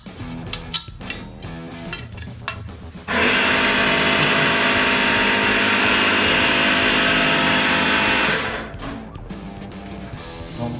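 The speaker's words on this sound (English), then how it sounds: "don't mind the air compressor" An air compressor kicks on in a workshop during a Suzuki M109R motorcycle exhaust install, a loud, steady mechanical roar that runs for about five seconds before cutting off, amid clinking tool sounds.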